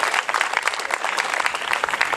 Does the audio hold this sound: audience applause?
yes